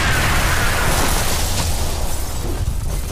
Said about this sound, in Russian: Крутые парни не смотрят на взрыв.